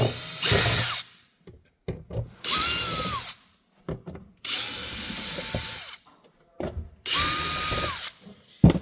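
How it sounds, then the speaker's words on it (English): Cordless drill fitted with a Phillips bit backing screws out of the clear case of a Micro-Air EasyStart RV soft starter, four or five loud whirring bursts with short pauses and small clicks between them. "what you're gonna need is a drill with a Phillips bit or just a Phillips screwdriver"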